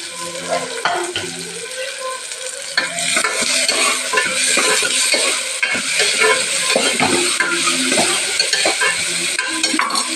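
Onions sizzle loudly in hot oil while a utensil stirs and scrapes the pan in irregular clatters, continuous and close.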